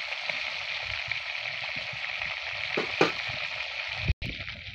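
Tilapia pieces frying two at a time in a pan of oil, a steady even sizzle with a few faint clinks and stirring sounds.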